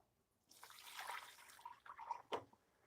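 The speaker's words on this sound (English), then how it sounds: "and then I add some water." Water pours into a pot of white rice being cooked with sofrito, a fairly faint splashing and trickling pour that starts after a short pause and runs in uneven bursts.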